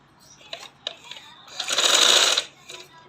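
A sewing machine stitches lace onto fabric, a short burst of steady mechanical whirring in the middle after a few brief starts and clicks, close and moderately loud, with no voice over it.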